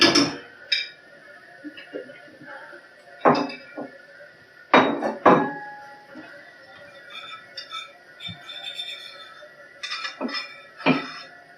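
A ceramic plate is lifted from a kitchen cupboard and set down while cooking beef jerky and eggs, giving several sharp clinks and knocks spread out over the stretch, with quieter rustling handling sounds between them.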